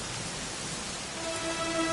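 Steady rain hiss in the Dragon Quest XI video game at Dundrasil, a broad, even wash of falling rain heard alone, with faint tonal ambience creeping in toward the end.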